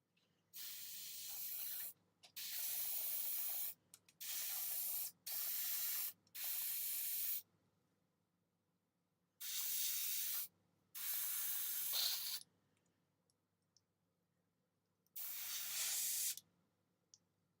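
Short bursts of airbrush spray on a hobby miniature, seven hissing blasts of one to two seconds each separated by quiet gaps, fairly close and alone with no voices.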